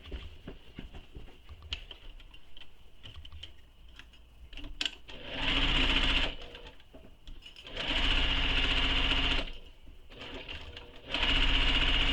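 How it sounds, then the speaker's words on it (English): A sewing machine stitches a bag seam in three bursts of rapid, steady whirring, each lasting one to two seconds, close by and loud. Quieter soft handling clicks and taps of the fabric come between the bursts. "we're going to sew along this seam using the seam allowance given in the pattern"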